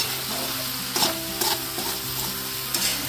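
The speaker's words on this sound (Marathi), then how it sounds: "बस चांगलं परतून घ्यायचं" Food is stirred and sautéed in a pan over a full flame, a continuous close sizzle broken by several scraping knocks of the spoon against the pan.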